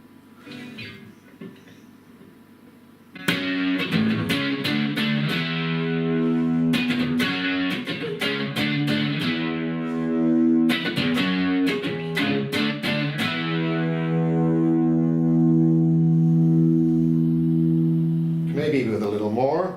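A distorted electric guitar plays chords and riffs through a Lexicon Signature 284 amp, with the distortion driven by the push-pull boost, loud and sustained after a quiet start.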